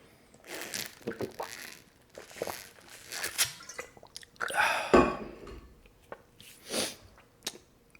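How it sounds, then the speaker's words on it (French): A person drinking water up close, with a scattered series of soft sips, swallows and wet mouth noises, one louder gulp near the middle, separated by quiet pauses. "D'ailleurs, moi aussi, je vais boire."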